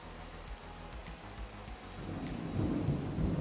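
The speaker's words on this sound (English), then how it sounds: "Did you guys hear that thunder?" Thunder rumbles through a heavy rainstorm during pottery work indoors, a deep low roll that swells louder toward the end over steady rain noise.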